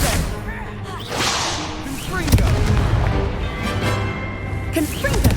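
An Incendio fire spell cast in Hogwarts Legacy, whooshing bursts and sharp cracks amid combat effects, one strong crack near the middle, with voices speaking throughout.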